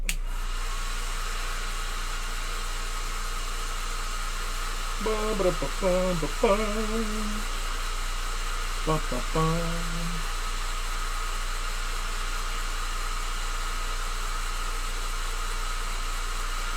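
Steady, loud hair dryer blowing throughout, drying paint on a miniature, a broad whooshing hiss that never lets up, with brief faint vocal sounds partway through.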